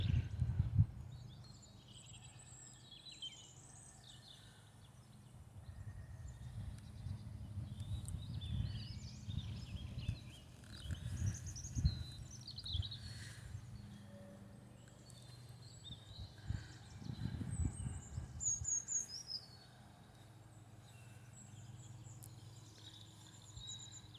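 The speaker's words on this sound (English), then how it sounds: "When I shut up, can you hear the birds singing?" Several birds chirp and trill in a garden at Felley Priory in spring while low rumbling and brief muffled thumps rise and fall underneath.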